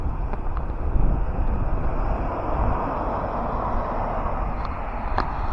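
Strong, cold wind in a narrow street in Czechia roars steadily across the microphone, a dense, buffeting rush with no voices, broken by a couple of faint clicks.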